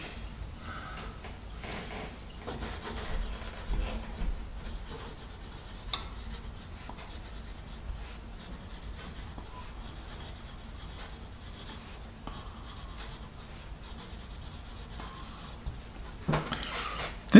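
Faber-Castell Jumbo Grip pencil writing on paper, a quiet, close scratchy graphite scrawl with irregular strokes and brief pauses, continuing steadily for the whole stretch.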